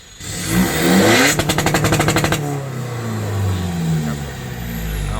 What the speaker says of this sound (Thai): ฟังเสียงเบิ้ลตันครับ